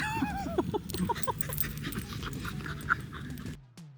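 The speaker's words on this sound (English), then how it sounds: "We made a random friend, really cute dog." A playful dog pants rapidly close by, breaking into high whimpers and yips, before the sound cuts off abruptly near the end.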